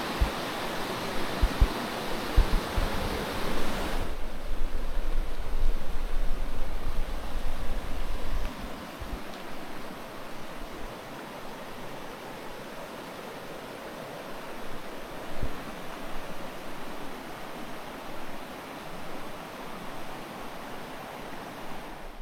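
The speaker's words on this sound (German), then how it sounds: "Wir lassen einfach mal diese natürlichen Geräusche laufen, das Wasser." Continuous rushing water of the Isar river, louder at first and then settling into a softer, steady flow, with no voices.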